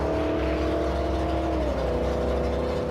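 Commodore and Falcon cars drag racing at Heathcote Park test and tune, a steady loud engine drone with a pitch shift as the cars run mid-track.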